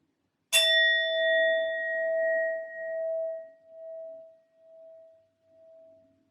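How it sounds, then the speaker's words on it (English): A singing sound bowl is struck once, ringing with a bright metallic attack and then a long, pure sustained tone that slowly wavers and fades, close and alone. "I will be using my sound bowl to clear and set the energy as always"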